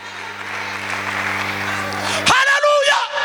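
A church congregation claps together in a steady wash of applause over a low hum, and a voice then rises loudly over it near the end.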